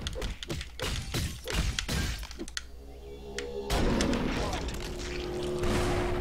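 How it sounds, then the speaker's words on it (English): Explosions and crashing blasts in the action video game Aztez, a run of sharp bursts followed by a heavy boom and lingering rumble, loud over game music, with a voice reacting in the background. "I thought that explosion was gonna hit me"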